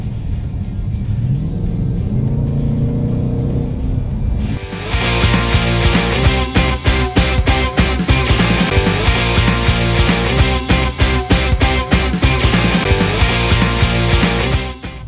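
A Roush Stage 3 S550 Mustang V8 idles and rises in a low rumble, then bursts into a loud, raw engine roar with rapid rhythmic pulsing and revving that continues for about ten seconds.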